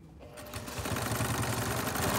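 A sewing machine stitches a tote bag seam, starting quietly and quickly building into a loud, steady, rapid whir that runs close up for about two seconds.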